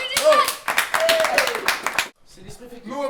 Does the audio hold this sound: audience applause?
yes